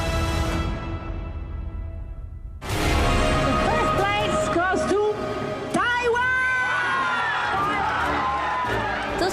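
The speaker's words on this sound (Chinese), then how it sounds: "现场响起热烈的欢呼声" After a quiet opening, a crowd at a world Christmas bread competition award ceremony bursts into excited cheering as the Taiwanese team wins, with whoops and shouted voices rising and falling at fairly close range.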